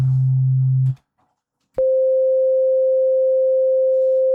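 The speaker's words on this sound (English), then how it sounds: "That seems already much louder at 500 hertz, 550, but our level didn't change" A low sine test tone stops, followed by a short silence, then a steady higher 500 Hz sine test tone sounds alone at constant level for the remaining seconds.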